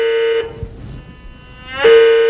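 A Whites GMT metal detector held low over black sand emits a loud, steady foghorn-like overload tone, holding for a moment, cutting out briefly, then sounding again just as strong.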